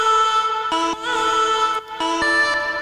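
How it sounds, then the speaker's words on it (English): An EDM vocal chop melody treated with OTT compression, sidechaining, reverb and delay plays as short tonal synth-vocal phrases that pulse and duck, loud and clean, with no talking. "here's the melody that I just came up with"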